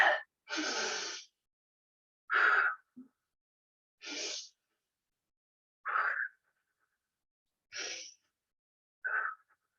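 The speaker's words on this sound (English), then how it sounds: "Take 5 or 6 deep breaths in." Deep breaths drawn in during a relaxation exercise: seven separate sharp inhalations spaced a second or more apart, close and fairly loud, with silence between them and no speech.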